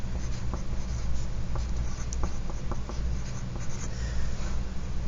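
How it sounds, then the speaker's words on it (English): Pencil scratching across a paper worksheet as a name is written at the top, a steady run of close, dry strokes with small taps, no voices. "let's go ahead and get started with writing our name at the top of our paper"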